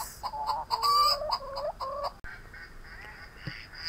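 A hen clucks in a quick series of short calls, fairly close, followed by quieter scratching and rustling with a faint squawk near the end.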